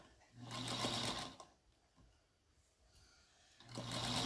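A sewing machine stitches quilt pieces for an eight-point pinwheel star block in two steady, whirring bursts, close and clear, separated by a quiet pause.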